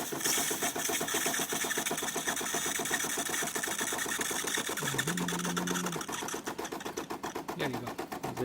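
A DeLonghi espresso machine dispensing hot water, with its pump giving a loud, fast, steady buzzing rattle throughout and a short tonal whine in the middle.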